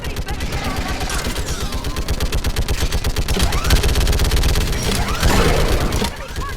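Rapid, continuous automatic gunfire from a mounted gun in the Mass Effect game on Thessia, loud and steady for several seconds with bursts of battle noise and faint voices beneath.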